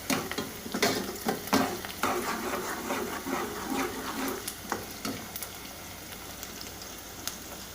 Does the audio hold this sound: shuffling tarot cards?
no